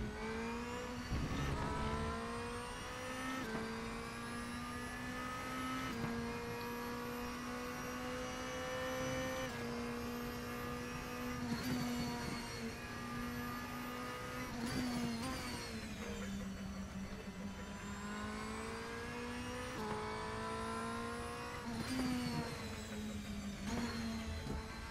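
A race car engine in the RaceRoom VR racing game runs loud and steady for the whole stretch, revving up and down through gear changes and corners, with no talk over it.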